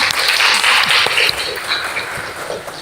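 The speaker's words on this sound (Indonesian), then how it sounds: "tepuk tangan dulu dong buat Virgi" Classroom applause for a student during an art lesson, a brief burst of scattered clapping from a group of pupils, strongest at the start and thinning out before trailing off.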